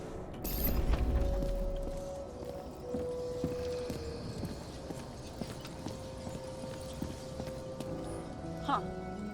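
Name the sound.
horse hooves clip-clopping in video game Nobody Wants To Die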